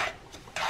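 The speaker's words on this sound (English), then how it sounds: "And you stir it." Spoon stirring thick homemade tamarind chamoy mixed with half a cup of Tajín, giving short close scraping, rasping strokes in two bursts with a quieter pause between.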